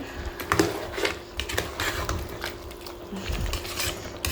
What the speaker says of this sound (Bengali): কষানো চলতেছে, এই যে কষাইতেছি, ভালো করে কষায় নেবেন